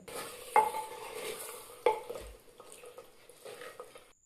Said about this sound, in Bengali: এটাকে ভালো করে কষিয়ে নিতে হবে, ততক্ষণ কষাবো যতক্ষণ না এটার থেকে তেল ছাড়ছে।